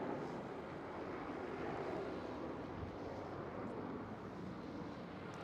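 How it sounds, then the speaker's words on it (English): A Transavia Airbus A321 spools up its engines at Schiphol, a steady broadband roar heard from a distance, faint and continuous with light wind noise and no talk. "while we are looking at this one Transavia A321 starting up, another one is passing by"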